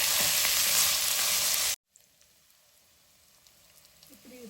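Mint and coriander leaves frying in a pan for a South Indian paneer gravy, with a loud, dense crackling sizzle that suddenly cuts off, leaving a faint low hum.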